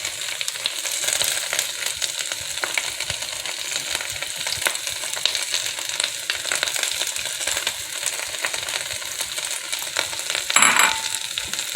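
Cabbage and peppers stir-frying in a pan, a steady close sizzle with light scraping and clinking of a utensil being stirred, briefly louder near the end, with no talking.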